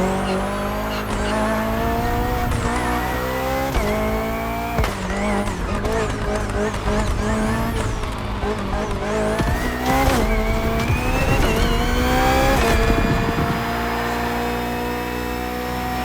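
Race car driving hard with repeated rising engine revs, gear shifts and tire squeal through corners, loud and continuous, close-up throughout.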